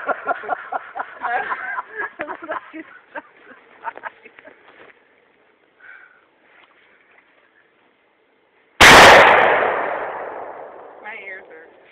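A single loud, sharp AR-15 rifle shot at close range, with a decaying echo tail afterward, following a stretch of people talking and a quiet pause.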